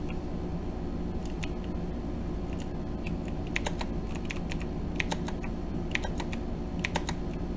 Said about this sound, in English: You guys probably can hear my keyboard.